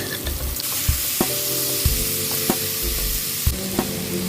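Bombay red onions, chopped chili padi and ripe tomatoes fry in a pan with a loud, close sizzle and a few distinct knocks and scrapes from stirring over a few seconds.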